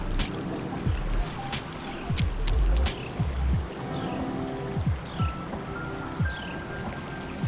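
Creek water flowing steadily through a stretch of a winter trout creek, a continuous close rushing wash with occasional splashes and knocks, no talking.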